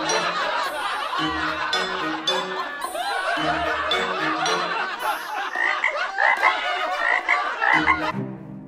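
Cartoon frog croaking repeatedly in quick, rhythmic bursts, loud and close, over busy background music with chuckling-like sounds.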